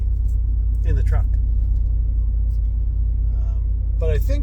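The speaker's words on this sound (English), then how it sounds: "this is just a test to see how much background noise there will be in the truck" Heavy low rumble fills the cab of a truck being driven, steady and loud throughout, with someone talking intermittently over it.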